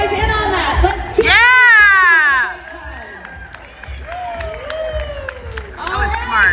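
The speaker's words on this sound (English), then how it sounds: "For everybody, just be borderline obnoxious with your cheering and let's have a good time." A dance competition group cheers loudly in a party circle, with shrill whoops and high excited shouts that rise and fall across the stretch and close at hand, mixed with voices calling out.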